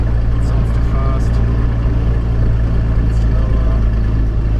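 Steady loud drone of a Cirrus light aircraft engine held at higher RPM, a constant close hum filling the cabin without letup.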